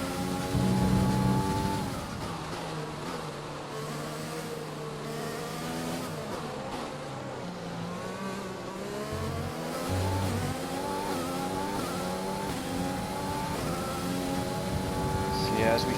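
F1 racing car in F1 2020 using overtake, engine whining and revving through rising and falling gear shifts, steady and prominent with talk over it.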